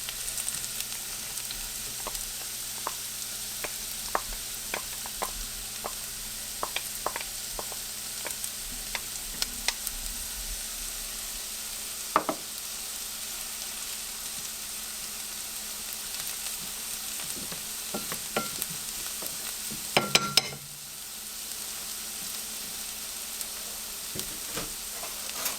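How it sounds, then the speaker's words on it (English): Onions sauté in a pan with a soft, constant sizzle, dotted by scattered clicks and spatters, plus a short clatter of stirring about two-thirds through; no talking. "We have to saute them until they translucent, not very cooked,"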